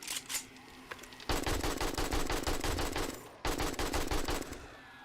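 Rapid automatic gunfire mows down mobs in the survival game 7 Days to Die, two long loud bursts of fast, evenly spaced shots separated by a brief pause, after a few scattered single shots.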